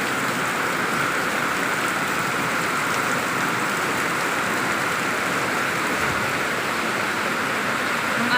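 Heavy afternoon rain pours steadily as a dense, continuous wash of loud broadband hiss that holds unchanged from start to end, with no voices over it.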